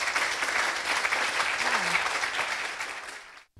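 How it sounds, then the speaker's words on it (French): An audience at the Samedi Show claps in a thick, steady wash of applause, with a brief voice underneath, before it cuts off abruptly. "Je demande nous pour nous applaudir, s'il vous plaît."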